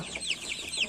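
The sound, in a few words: chickens clucking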